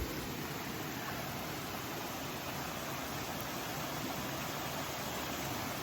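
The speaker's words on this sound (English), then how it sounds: "The waterfalls, the sound of them is so relaxing, so nice." Steady broadband rush of a waterfall on the Appalachian Trail in Virginia, a constant close roar of falling water with no pauses or voices throughout.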